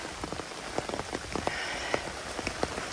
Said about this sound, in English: Lovely weather we're having. It's pouring again